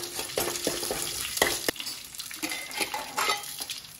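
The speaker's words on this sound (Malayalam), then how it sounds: "എണ്ണയിലോട്ട് കടുക്, ഉഴുന്ന്, കറിവേപ്പില, മുളക്, ഇത്രയേ ഉള്ളൂ." Mustard seeds, urad dal, curry leaves and dried chilli tempering in hot oil in a home kitchen, a steady close sizzle broken by spattering pops and a few sharp stirring clinks against the pan.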